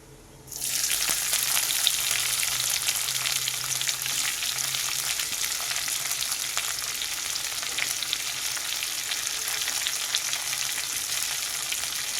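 Onions and cumin hit hot oil on a high gas flame, bursting into a loud, dense sizzle that holds steady and even for several seconds with faint crackles throughout.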